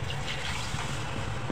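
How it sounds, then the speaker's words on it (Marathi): Water poured into a spiced horse gram flour mixture with turmeric in a pan, a short, steady close-up trickling and splashing with no voices. "पाणी घाला"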